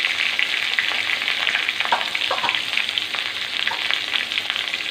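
Tomatoes frying in a pan with cooked onion, a loud continuous sizzle and crackle, close up, with brief spattering bursts midway and no talking.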